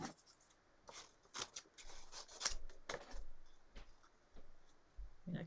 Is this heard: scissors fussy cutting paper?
yes